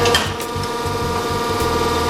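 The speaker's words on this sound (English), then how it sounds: "So we'll make that bend first. Fire up the press brake. Cycle the machine." A Di-Acro 17T 48-inch press brake cycling to bend a sheet metal tab for an electronics project box, giving a steady loud mechanical hum with a rapid rhythmic chattering pulse throughout.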